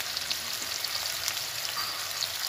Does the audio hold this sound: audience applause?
no